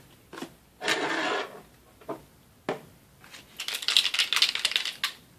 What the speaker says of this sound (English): So it says you can shake the marker to mix up the paint. There's some little beaters inside, some little agitators.